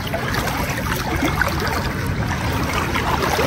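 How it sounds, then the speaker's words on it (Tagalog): Floodwater flows steadily and fairly close, a continuous rushing trickle with small splashes and no break. "Guys, grabe ang baha dito."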